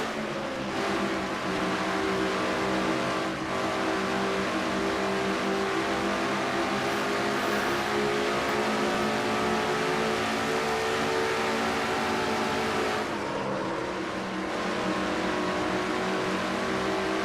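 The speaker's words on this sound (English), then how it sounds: "On board Seth Cole's car." Race car engine in a NNSCRA Castrol GTX Cup Series stock car racing video game, heard from an onboard view: a loud, steady high-pitched drone holding through the lap, with a brief drop in pitch near the end as the car comes off a turn.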